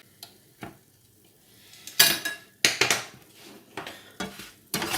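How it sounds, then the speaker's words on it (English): Metal cooking rings clatter and clink against a pan as they are lifted off homemade crumpets, with several sharp, close metallic knocks and scrapes separated by brief pauses. "I'm just going to take them out of these rings now."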